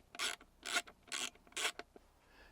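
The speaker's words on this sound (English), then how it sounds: "Now, just got to put our screw back in" A trim screw on a Tesla is driven back in by hand, giving four distinct rasping, ratcheting turns in close succession, close and fairly quiet.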